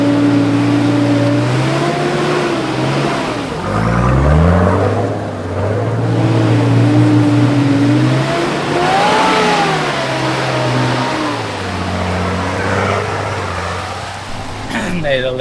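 Off-road build vehicle with lockers engaged revving hard as it pushes through a mud hole, the engine surging and easing in waves close by, with people talking over it.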